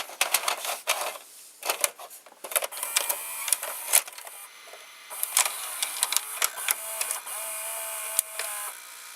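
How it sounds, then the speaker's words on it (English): The gear train of a JVC HR-A56U VCR drives the eject mechanism with rapid plastic clicks and whirring bursts. Short mechanical runs stop and start in an irregular rhythm, close-up and fairly loud, with no talking. "this gear is driving this gear placed vertically, and this gear drives the eject mechanism"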